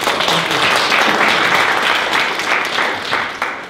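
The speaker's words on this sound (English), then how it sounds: "have a round of applause" Audience applause at a tech meetup talk, a loud dense wash of many hands clapping continuously throughout, easing slightly toward the end.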